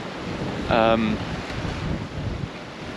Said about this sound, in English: We've got waves coming from all angles. Right, we're currently sitting at 33 knots of wind.